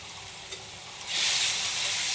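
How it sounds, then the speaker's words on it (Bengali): Spice paste sautés in a pan with a soft, steady sizzle that swells into a louder, brighter hiss halfway through, close and without speech. "মশলাটা ভালো করে কষাবো"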